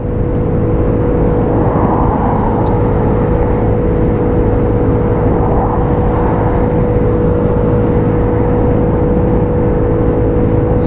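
Lexmoto Aura motorcycle cruising on a dual carriageway, a loud, steady engine drone mixed with wind rush, continuous and close with no speech.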